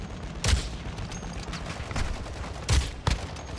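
Gunfire in Call of Duty DMZ: a few short, low-level bursts of shots spaced over a few seconds, with one early and two close together near the end, under steady game noise.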